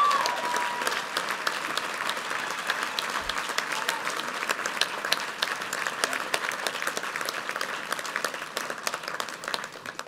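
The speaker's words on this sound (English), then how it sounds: "let's give them a round of applause." A large audience at a university commencement for an agricultural sciences college applauds steadily, a dense, even wash of clapping that holds throughout with no voices over it.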